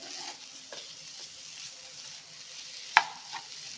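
Dhaba-style mutton dry fry cooking in a pan, a faint low sizzle with a few soft stirring scrapes and one sharp utensil clink near the end.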